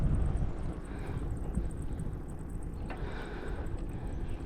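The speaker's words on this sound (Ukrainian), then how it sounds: "Вітер зустрічний, але не такий сильний, як е, вчора" A headwind rushes against the microphone of a cyclist riding alone from Venice toward Zurich, a steady low buffeting roar that stays constant throughout with no talking.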